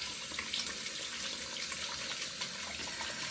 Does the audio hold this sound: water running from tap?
yes